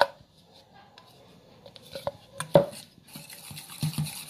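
White chocolate ganache with cream is stirred in a bowl with a utensil, giving soft, irregular scraping and clinking, including one louder knock partway through, with faint voice in places.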